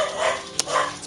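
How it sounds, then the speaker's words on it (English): A dog barks while chasing a cat in Baldur's Gate 3, giving a single short, sharp yap over steady background ambience. "Well, there goes my dog after a cat."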